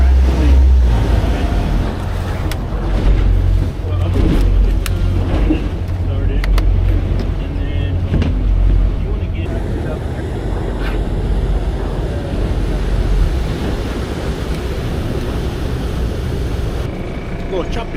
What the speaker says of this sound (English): it's this boat creating a ridiculous amount of waves